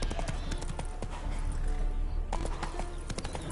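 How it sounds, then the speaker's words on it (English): Roach, a horse in Witcher 3, clops along with rhythmic hoofbeats at moderate distance, the sound fairly quiet under ambient game noise. "Spooking my horse. Roach doesn't like ghosts."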